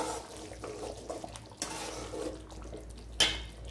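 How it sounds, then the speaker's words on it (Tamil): Pot of fish curry with coconut milk bubbling on the stove, soft irregular popping and simmering close by, with a few brief clinks and a sharper splash near the end. "இப்போ தேங்காய் பால் ஊற்றினதுக்கு அப்புறமா நல்லா கொதிச்சிருச்சு."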